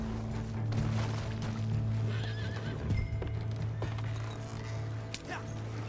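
A horse in the Red Dead Redemption 2 video game neighs several times over a steady clip-clop of hooves, loud and close, with background music and faint game noises.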